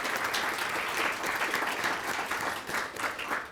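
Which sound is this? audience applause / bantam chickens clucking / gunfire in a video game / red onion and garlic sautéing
audience applause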